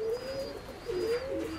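A short-bodied pigeon coos in two soft, rolling phrases, close and fairly quiet, with no voices.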